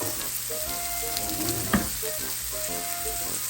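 Korean samgyeopsal pork belly frying in a pan gives a steady close sizzle and crackle throughout, with a brief sharper pop partway through.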